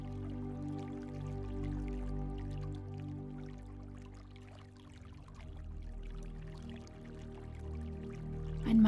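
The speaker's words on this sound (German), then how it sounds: "Ein Stückchen weiter erblickst du einen kleinen Bach." A small babbling brook trickles steadily throughout, with soft drips and gentle pours of running water, fairly quiet and continuous with no voices.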